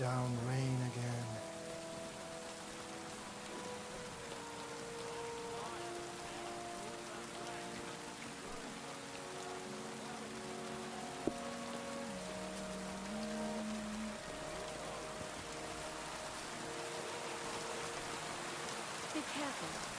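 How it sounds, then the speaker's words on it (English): Heavy rain falls without pause in Kingdom Come: Deliverance 2, a loud, broad wash of drumming water lasting throughout, with soft sustained music tones underneath and faint speech at times. "Pissing down rain again."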